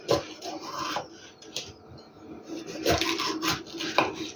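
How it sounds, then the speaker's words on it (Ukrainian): A knife taps and scrapes on a cutting board in irregular chops through bell pepper, close and fairly quiet, with a brief rustle between cuts. "Нарізаю перчик довільними кусочками"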